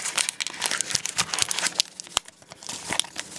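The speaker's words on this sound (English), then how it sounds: "I'm going to shuffle them up" Rapid crisp rustling and flicking of Pokémon trading cards being shuffled, an irregular flurry of papery slaps close to the mic.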